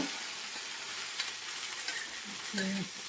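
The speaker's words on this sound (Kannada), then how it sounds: "ಬೆಂಡೆಕಾಯಿ ಹುರಿಲಿ ಆರಾಮಾಗಿ." Okra fries in a pan, with a continuous sizzle and intermittent scraping stirs from a utensil, heard close and steady with no talking.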